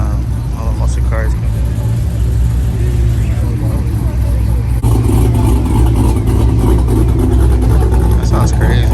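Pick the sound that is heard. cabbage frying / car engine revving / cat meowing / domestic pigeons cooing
car engine revving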